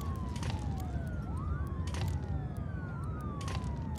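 A wailing ambulance siren in the video game SimCity sweeps up and down repeatedly over a steady rumbling background of traffic noise, loud and continuous throughout.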